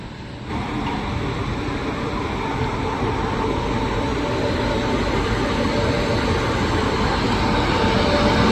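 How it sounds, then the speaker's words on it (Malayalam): An Erode shed WAP-5 electric locomotive on the Erode–Jogbani Amrit Bharat Express rolls past, a loud, steady rumble and roar that builds slightly and holds without pause, with no voices. "ഈറോഡ് ലോക്കോ ഷെഡിന്റെ തന്നെ ഒരു ഡബ്ല്യു പി ഫൈവ് ആണ് പുറകിലെ ലോക്കോ വരുന്നത്"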